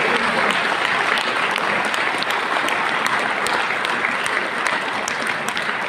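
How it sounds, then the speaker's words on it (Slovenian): Concert audience at a folk ensemble's fifth-anniversary jubilee show breaks into sustained, dense applause, a loud, even wash of clapping that carries on without pause for the whole stretch. "Dajmo aplavz za Kamšakovega Stankota"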